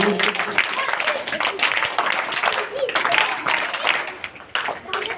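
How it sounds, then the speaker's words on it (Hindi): Applause from an audience at a Republic Day (26 January) school function with scouts, a steady patter of clapping lasting several seconds, fairly close, with voices mixed in. "ताली इसका बजाइए।"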